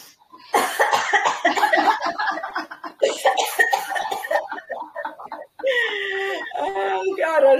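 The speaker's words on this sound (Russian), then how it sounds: "Приготовились, покашляем немного." Teachers and children at a graduation party cough together in a laughter yoga exercise, with a dense burst of overlapping coughs and chuckles that trails into playful hooting and rooster-like calls.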